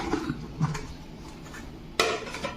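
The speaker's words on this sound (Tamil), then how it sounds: "இப்போ மூடி திறந்து பார்க்கலாம்" Lid twisted off a jar of mango avakkaya pickle, a few soft clinks and scrapes followed by a sharper clack near the end, close and quiet.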